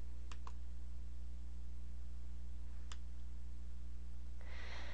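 A few sharp computer mouse clicks in the WordPress menu editor: two quick ones near the start and another a few seconds later, heard over a steady electrical hum, with no speech.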